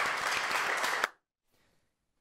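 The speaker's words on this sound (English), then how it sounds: "a quick round of applause" A short burst of dense clapping and applause plays for about a second, then cuts off sharply into near silence before another sound begins at the very end.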